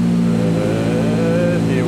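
A K24 engine fitted in a Mazda 121 with individual throttle bodies idles and holds low revs on a dyno, a steady close drone with a slight upward drift, while someone talks over it.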